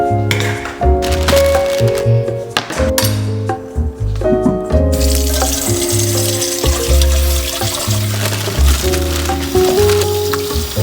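Tap water runs steadily into a sink as vegetables are washed, with frequent clinks and knocks of produce and dishes close by and no talking.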